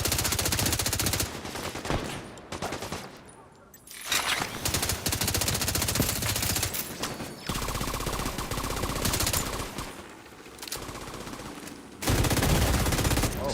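Rapid automatic weapon fire in the shooter game Division 2, long loud sustained bursts broken by a few short pauses, dense and continuous.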